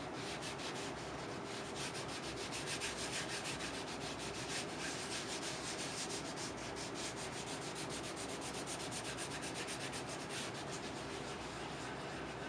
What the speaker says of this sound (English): now I start to sand with 80 grit sandpaper